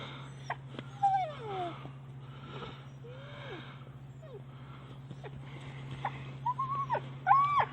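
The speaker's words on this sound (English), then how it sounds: "Okay, Chase, we're going, good boy" A dog on a trail outing in Pennsylvania state game lands gives several high whines and yips, scattered through the clip and rising near the end, over a steady low hum.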